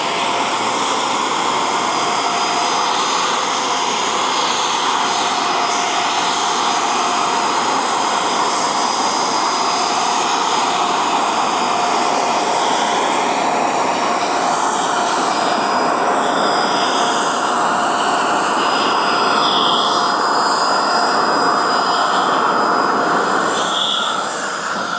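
A DIY paint spray gun lays down another coat, a loud, continuous hissing rush of atomized air and paint that holds steady and unbroken throughout, with no talking.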